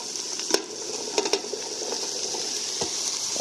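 Chopped asparagus is stirred into onion already sizzling in a pot. A steady frying hiss runs throughout, broken by a few sharp scrapes and knocks of the spoon against the pot. No voices are heard.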